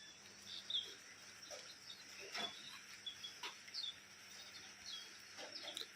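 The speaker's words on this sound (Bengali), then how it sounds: "বর্ষার বাজারে পাখিরা সব কিচিরমিচির করছে।" Birds chirp outside during the rainy monsoon season, faint scattered tweets and calls over a quiet, damp background with no talking.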